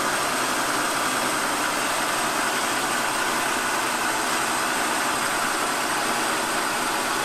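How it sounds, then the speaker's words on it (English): A turret capstan lathe running at speed, giving a steady, loud mechanical whir and hum that holds constant the whole time with no talking. "See the lathe up to speed there"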